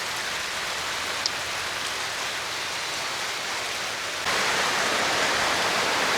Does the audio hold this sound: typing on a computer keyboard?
no